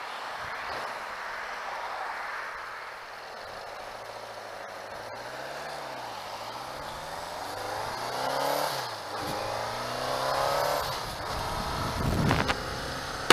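A 1986 Suzuki GS550L motorcycle being ridden on Long Island roads, its engine droning steadily and rising and falling through gear changes under wind rush, with a louder burst near the end.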